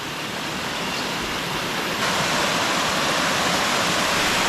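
Water pouring from a pipe at a coffee estate makes a loud, steady rushing gush that swells slightly midway, close by and constant, with no voices.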